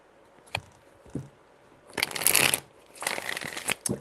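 Tarot cards being shuffled by hand in a few separate bursts of papery riffling and slapping, fairly close, with a quiet tap before them and no talking.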